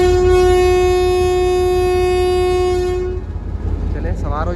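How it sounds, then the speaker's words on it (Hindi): A train departing for Lala Musa sounds a long, loud, steady horn blast for about three seconds, then it cuts off, leaving a rumbling engine and wheel noise close by. "तो अब ट्रेन रवाना हो जाएगी"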